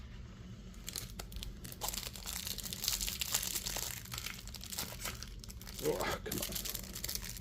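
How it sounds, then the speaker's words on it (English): Plastic wrapping on a card product crinkles and crackles in close, irregular bursts as someone struggles to tear it open, with a short muttered remark partway through. "Piece of plastic doesn't want to open for me"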